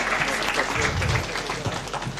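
Applause for a judge at a judges' book fair, a steady crowd of clapping hands filling the room, fairly loud and sustained, with some murmuring voices underneath.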